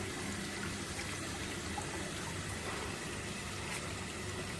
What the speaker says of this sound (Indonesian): Ini airnya berputar guys ya, karena ada penturi.